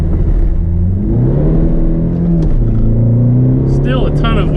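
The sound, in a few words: turbo diesel car accelerating with wheel spin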